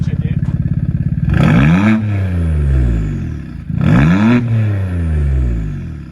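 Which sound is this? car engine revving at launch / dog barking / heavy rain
car engine revving at launch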